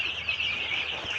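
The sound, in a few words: tiger chicken chicks clucking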